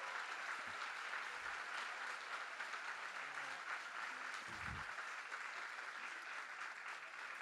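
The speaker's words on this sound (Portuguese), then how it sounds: "Palmas para o Fernando" Audience applause at a book fair auditorium greeting a guest, Fernando de Barros e Silva, arriving on stage: continuous crowd clapping, fairly distant and even in level, with a few low thumps and knocks mixed in.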